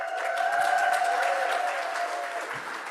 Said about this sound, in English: you may want to hold your applause till the end